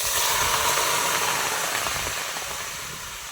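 Tomatoes sizzling in a hot pan on the stove, a loud steady hiss that fades slightly toward the end, with no talk.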